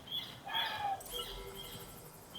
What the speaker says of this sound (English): Right, now the birds are going.